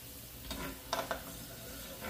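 Dry macaroni noodles, about half a box, drop into a pot of boiling water, giving a few faint splashing rattles over a low bubbling bed.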